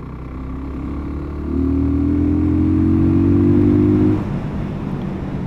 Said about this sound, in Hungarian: Nagyon kis, könnyű, aranyos, kis pici motor, mint látjátok, teljesen lehet vele stabilan menni.